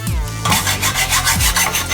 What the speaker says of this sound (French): À l'ancienne, coupée à la scie à métaux.